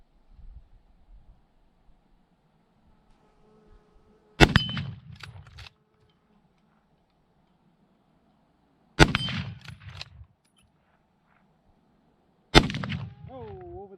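Three sharp Winchester Model 1895 musket shots ring out several seconds apart, each followed closely by the metallic clang of steel targets, loud against a quiet outdoor background.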